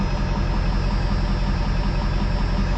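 A Ford 7.3 Powerstroke diesel engine idles steadily, a continuous low rumble with a constant high whine, heard close up without pause and with no talking.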